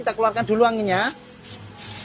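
Hissing bursts of a spray gun applying paint to a scuffed motorcycle part come after a man's speech, three short sprays with brief pauses.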